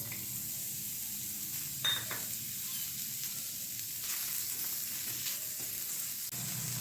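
Onions sautéing in a little oil in a pan, a soft continuous sizzle with occasional light clinks of a spatula, fairly quiet and without talk.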